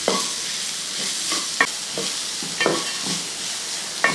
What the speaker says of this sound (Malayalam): ആ സവോള ഇട്ട് കൊടുത്തതിന് ശേഷം ഇളക്കി കൊടുക്കും.